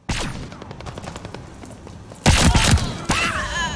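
Gunfire exchange in Call of Duty Vanguard multiplayer, rapid bursts of shots followed by a louder, denser volley near the end, close and sharp.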